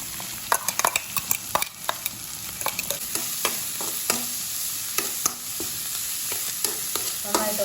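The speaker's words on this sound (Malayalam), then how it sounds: "നന്നായിട്ടൊന്ന് ഇളക്കി കൊടുക്കാം" Onions frying in a pan with coriander, garlic and dried red chillies while being stirred, a steady sizzle broken by frequent scraping clicks of the spoon, close and fairly loud with no talking.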